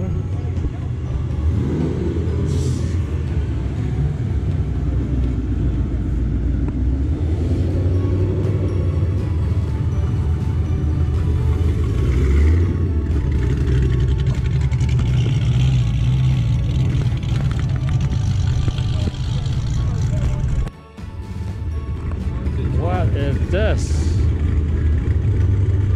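Mustangs rolling past at a car show, a steady loud engine rumble and low exhaust drone filling the scene with a brief dip near the end, while people talk over it.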